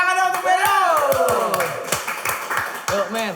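A small group claps on a podcast set while voices talk and call out loudly over them, the handclaps coming as scattered, close taps beneath the speech.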